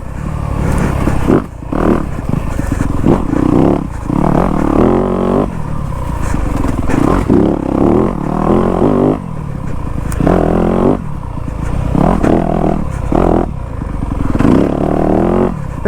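A Yamaha YZ250F dirt bike engine lugs in low gear, a loud close throaty chug that surges and drops with throttle, mixed with rattling and scraping from the ride.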